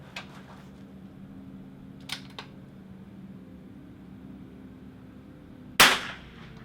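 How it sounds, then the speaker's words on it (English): A rifle fires one loud, sharp shot at an outdoor shooting range during a precision match stage, preceded by a couple of faint clicks and quiet background noise. "I'm not shooting well for some reason."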